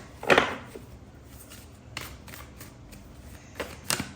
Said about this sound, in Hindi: Let's shuffle these cards first.